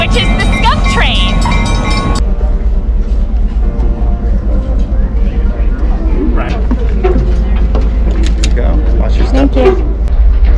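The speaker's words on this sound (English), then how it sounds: "So that is our engine on the train ride we're gonna get on, which is the Skunk Train." A Skunk Train locomotive engine in Willits, California rumbles loudly and steadily up close, with a deep continuous drone and some higher mechanical tones, while people talk nearby.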